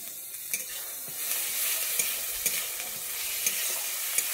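Ground cumin paste sizzling in a pan as it is stirred, a quiet steady frying hiss punctuated by regular light taps and scrapes of the spatula; no voices.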